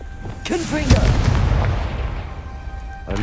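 Confringo blasting spell in Hogwarts Legacy: a loud booming explosion with a sharp burst and rumbling tail, preceded by a spoken incantation.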